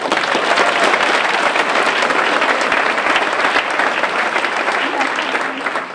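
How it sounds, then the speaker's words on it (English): A large audience at a motivational talk in South Africa bursts into loud, sustained applause, a thick crowd roar of many hands with some voices mixed in, fading a little at the close. "Give yourselves a round of applause."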